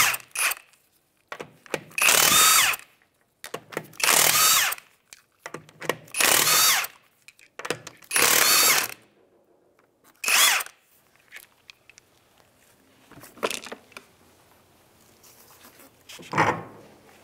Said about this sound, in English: Go ahead and take off the lug nuts now.